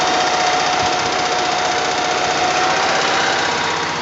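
A Telsta boom truck's hydraulic drive hums and knocks steadily at close range as the boom rotates clockwise, a loud continuous mechanical drone with a faint whine and no talking.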